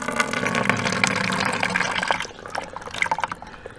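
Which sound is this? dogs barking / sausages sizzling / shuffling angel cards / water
water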